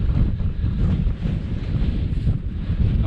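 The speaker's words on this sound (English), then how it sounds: "Still windy, but definitely more sheltered here." Strong wind blows across the east side of an open moor at Blackstone Edge in the South Pennines, a loud, continuous rushing roar that buffets the microphone in uneven gusts. No voices.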